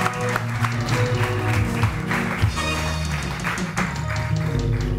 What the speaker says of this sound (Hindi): तो जोरदार तालियों में वेलकम करेंगे डॉक्टर उम्मे राहिल को।